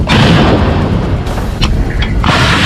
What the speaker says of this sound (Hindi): जब चीन की तोप गरज रही थी